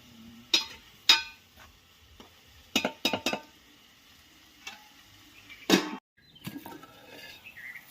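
Onions frying in oil for a home-style tamarind leaf egg curry, with faint sizzling under a series of sharp clinks and stirring knocks from a utensil against the pan, spaced irregularly and fairly close.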